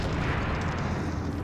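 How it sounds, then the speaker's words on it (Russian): A deep, rumbling blast with sustained low roar, loud and close, as army plastic explosive blows open a metal door in the video game Dark Sector. "Обычная армейская пластиковая взрывчатка. Для взрыва металлических дверей"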